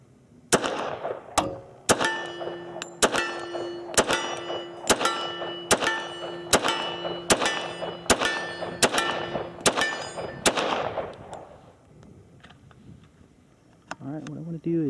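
An HK Mark 23 pistol fires Remington ammunition at steel targets in a rapid, evenly spaced string of about a dozen sharp, loud shots, each followed by metallic ringing. Quiet follows, then a couple of fainter sounds at the end.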